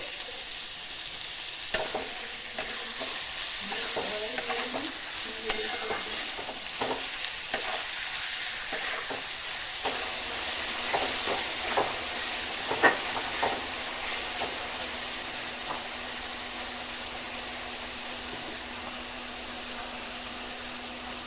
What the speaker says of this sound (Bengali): পেঁয়াজটা ভাজার সময় পেঁয়াজের মধ্যে একটু চিনি দেবো আর একটু লবণ দেবো